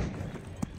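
Hoofbeats of a galloping horse in the video game Assassin's Creed 3 Remastered, a brief burst of clip-clop under a faint voice.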